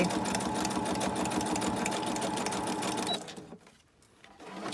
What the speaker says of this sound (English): I'm going to then stitch maybe on this edge to hold this bit in place